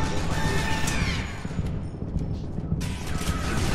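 Dense gunfire in the shooter game Loadout, rapid shots and crashing impacts piled together in a loud, chaotic stretch of combat, with no speech.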